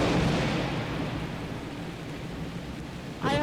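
Heavy, loud rain and rolling thunder in the video game Shelter 2 fill the whole stretch as a dense, steady roar, and a sharp crackling strike, like lightning, bursts in near the end.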